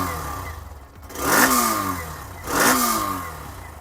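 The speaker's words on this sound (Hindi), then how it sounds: "पर आपको एग्जॉस्ट नोट भी सुनाते हैं। ये है आपके लिए एग्जॉस्ट नोट।" A Hero Xtreme 125R single-cylinder motorcycle idles with a low, steady exhaust thrum, then revs twice in sharp, rising bursts before settling back each time, close and fairly loud.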